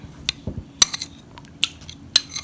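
A utensil piercing stuffed bell peppers in a kitchen, giving a handful of sharp clicks and scrapes against a dish, spaced unevenly over a couple of seconds against a quiet background.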